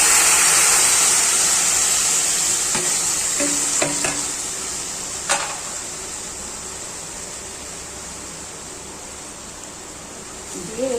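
Vegetables sizzle in a little sunflower oil, a steady broad hiss with a few clinks of stirring, loudest at the start and easing off, with no one talking.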